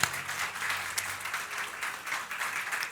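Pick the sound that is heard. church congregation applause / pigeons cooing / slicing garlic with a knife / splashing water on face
church congregation applause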